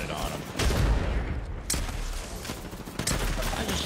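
Rapid gunfire from the battle royale game Apex Legends, dense bursts of shots and impacts that run nearly continuously and loudly, with brief talk mixed in.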